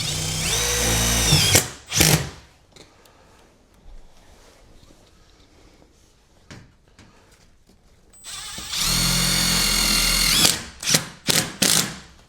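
A power drill drives screws to fix a radiator base plate to a plaster-and-lath wall, with two loud, close whirring runs separated by quieter handling knocks and taps, ending in short bursts.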